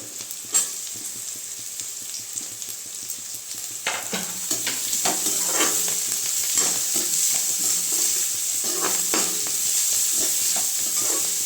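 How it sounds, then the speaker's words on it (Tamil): Small chopped carrots and other vegetables sautéing in a pan for corn fried rice, an even sizzle that swells after a few seconds, with spatula scrapes and clinks scattered throughout, close up and without speech. "சின்ன சின்னதாக கட் பண்ணி வச்சுருக்க கேரட் போடுறேன்"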